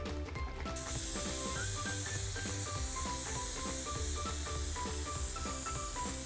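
Airbrush-style spray hissing steadily as white cocoa butter coloring is sprayed into a chocolate bonbon mold for yuzu bonbons, a continuous close hiss with faint clicking and rattling underneath.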